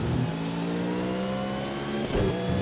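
A race car accelerates in Project Cars 2 during a PC time trial, its engine revving loud and steady as the pitch climbs. A brief dip comes near the end before the engine pulls again.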